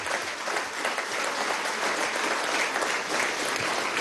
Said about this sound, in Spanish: Aplausos desde aquí, desde el Palacio de Miraflores